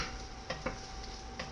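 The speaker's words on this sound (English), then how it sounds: "I'm going to add those into with the onions. And I'm going to continue frying that a bit." Cooked peas and onions fry quietly in a pan with a soft, steady sizzle, broken by a few faint clinks of stirring.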